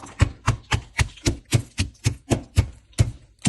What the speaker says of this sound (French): Après avoir bien écrasé notre piment, les pépins également